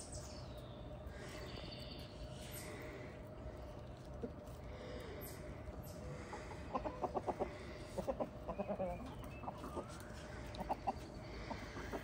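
Chickens cluck in a backyard flock on a buggy evening, soft and somewhat distant, with a cluster of quick clucks in the later half over a low outdoor hum and faint insect-like chirping.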